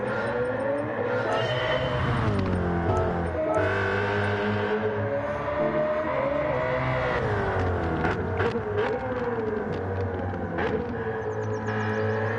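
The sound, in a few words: race car engine revving in Gran Turismo 7 video game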